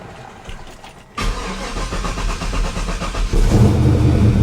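A car that had sat unused for two weeks cranks and fires up at once, catching into a loud, steady idle with a slight rev near the end.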